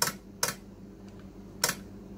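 Band-change relays in an Icom IC-720A HF transceiver clunk three times, sharp close mechanical clicks spaced irregularly over a quiet background, with a faint tick between them.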